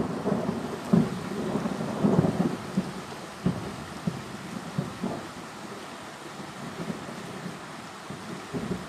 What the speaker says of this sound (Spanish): Ahora está tronando.